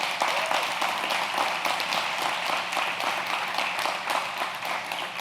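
A church congregation applauds in a sustained, even wash of clapping, moderately loud and heard from across the room.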